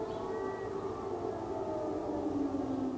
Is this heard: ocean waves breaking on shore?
no